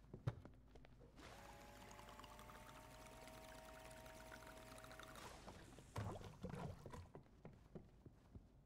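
Water poured in the Crime Scene Cleaner video game, a steady close stream running for several seconds with a rising pitch as the container fills, followed by a few soft clunks and handling noises.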